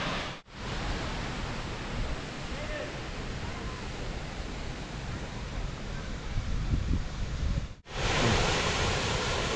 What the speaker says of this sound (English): Oh, we can see the top of the waterfall.